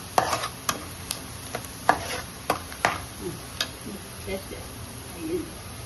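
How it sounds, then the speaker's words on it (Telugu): Boti, goat intestine pieces, frying in a pan, with sharp scattered clicks and taps of a spoon stirring against the pan over a low, steady sizzle; faint talk in the background. "బ్రౌన్ కలర్ వచ్చేదాకా ఇది వేపాలి బాగా"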